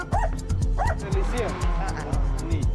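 Several dogs in a South African community bark and yip over one another in short repeated bursts, close and loud, with some whimpering yelps mixed in.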